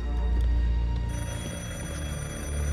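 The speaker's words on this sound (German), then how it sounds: "Telefon." A telephone rings in the World War II setting of the PC game Sniper Elite 5, with steady repeated tones layered over continuous background game music, fairly loud throughout.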